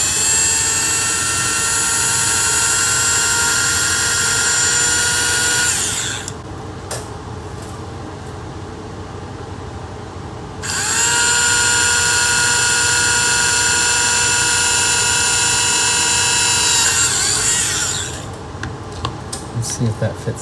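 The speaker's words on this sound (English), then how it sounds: "We'll test drill a hole here." A high-pitched power drill whines steadily for about six seconds, drilling a hole in a plastic model motorcycle part, pauses, then runs again for another stretch before stopping.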